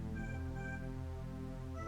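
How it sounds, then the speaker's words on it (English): A cat meows in a horror video game, a couple of tonal cries standing over a constant droning, music-like ambient bed throughout. "that's the cat right there ahead of you"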